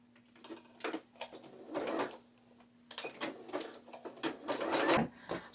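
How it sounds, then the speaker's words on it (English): A sewing machine stitches fabric down in a series of short, stop-start bursts, close and moderately loud, over a steady low hum, with no voices. "So I'm stitching it down."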